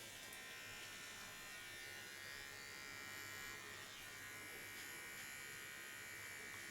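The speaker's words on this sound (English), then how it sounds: "Take the fine small comb and do the contour with a small clipper." A small electric hair clipper buzzes steadily and close up while contouring ultra short hair, a continuous high whine with no pauses and no talking.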